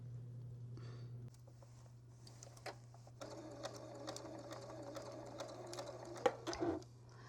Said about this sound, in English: I'm going to put it again under my machine, so carefully folding this out of the way, and sew along